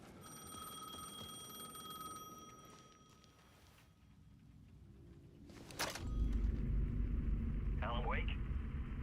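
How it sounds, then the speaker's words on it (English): Payphone ringing in the video game Alan Wake 2: faint repeating bell-like ring in the first few seconds over a low ambient rumble, then louder rumbling noise and a short vocal sound near the end. "The payphone was ringing again."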